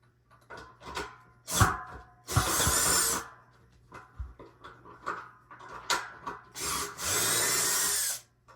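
Wrench work on a stuck nut on an old DirecTV Phase 1 satellite dish, heard as scattered metallic clanks and scrapes with two sustained loud hissing, grinding bursts, close by and without talk.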